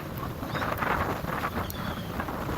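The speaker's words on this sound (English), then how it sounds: "as you can hear, it's still extremely windy" Strong wind gusts roar across an exposed, wind-scoured mountain saddle at Loveland Pass in winter, buffeting the microphone in a loud, continuous rush with no talk.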